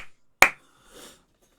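A podcast host makes a single sharp clap or snap, close and crisp, standing alone against near-silence with a soft rustle afterward.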